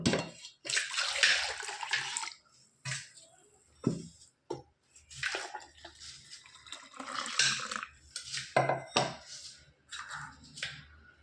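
Water is poured into pani puri masala in several splashy bursts separated by short pauses, close by and fairly loud.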